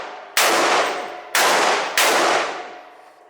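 Three shotgun blasts at a shooting range, each a sharp, loud crack with a ringing tail that fades before the next; the first two come about a second apart and the third follows quickly.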